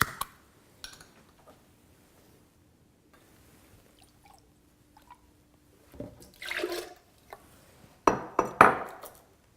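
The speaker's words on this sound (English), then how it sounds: "In a high-speed blender, pour 1 cup of a no salt added vegetable juice blend or no salt added tomato juice." No-salt-added vegetable juice is poured into a high-speed blender, giving short splashing bursts and glassy clinks in the second half after near silence, with no speech.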